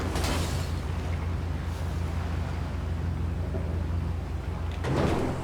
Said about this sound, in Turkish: Parçaladık arabayı ya.